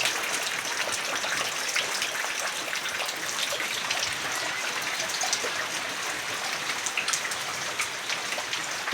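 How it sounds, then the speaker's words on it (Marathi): Steady rain pattering on tin roof sheets during monsoon weather, a dense continuous drumming of drops heard from indoors, even and unbroken throughout. "पत्रान उली पाणी पडायले."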